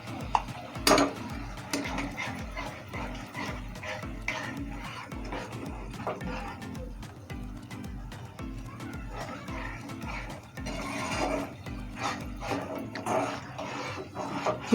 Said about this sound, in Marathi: ही पण आपल्याला मसाल्याबरोबर परतून घ्यायचे.